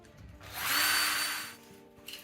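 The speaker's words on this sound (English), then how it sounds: "We will drill out these holes and we'll come back in a second" A power drill whirs up for about a second, rising and falling in a single short burst while drilling holes for a Prolock Slimline lock, close and fairly loud in a quiet room.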